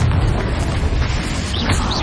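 Confringo explosion spell cast in the Hogwarts Legacy video game, a dense rumbling blast with booming low end that fills the whole moment, with small chirping magical effects near the end.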